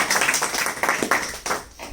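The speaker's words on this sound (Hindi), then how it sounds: "एक जोरदार ताली होनी चाहिए" A small audience claps, a dense run of quick, fairly close hand claps that holds steady for the full two seconds and then tapers slightly.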